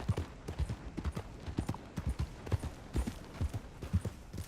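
A mare's hooves clip-clop in a steady, uneven rhythm on a hard stable floor as she is led inside, a dozen or so close, sharp knocks with faint shuffling between them.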